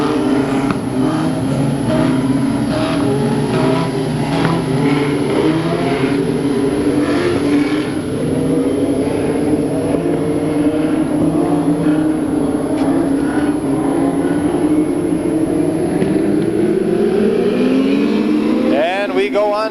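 USAC Western States midget race cars roar off the start at Bakersfield, California: a dense, loud pack of engines revving and climbing in pitch, sustained throughout, with a commentator's voice running over the noise.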